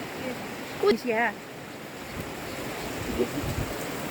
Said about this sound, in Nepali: लमजुङे डाँडैमा हावा छ।